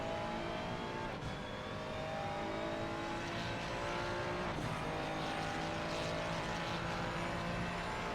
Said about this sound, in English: You can hear the engine, you can see if he's careful with the throttle.